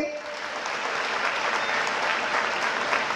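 Steady, dense applause from an audience at a student career-guidance motivational talk, sustained at even loudness throughout with no voices breaking through.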